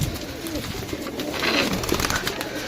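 Pigeons for sale in Jhelum, Pakistan coo softly and repeatedly close by, low burbling calls over a noisy background with no talking.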